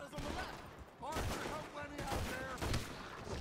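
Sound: pistol gunfire in Red Dead Redemption 2 video game

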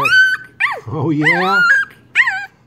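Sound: Airedale Terrier puppy whimpering and growling

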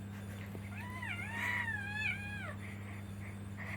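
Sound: cat meowing

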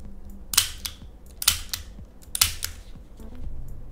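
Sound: Colt Python toy revolver double-action trigger and cylinder mechanism

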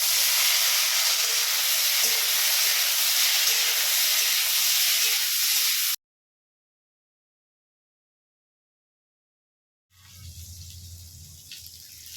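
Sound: steam hissing from pot of boiling rice

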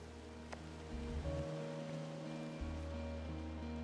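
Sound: waterfall in the video game Firewatch

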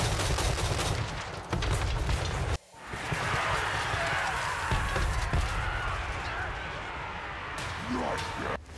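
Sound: gun turrets firing in video game Total War Warhammer 3

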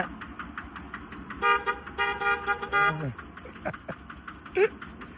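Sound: horn honking on a homemade motocross vehicle

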